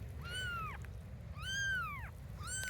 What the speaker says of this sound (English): up in the hay loft here, we have some little baby kittens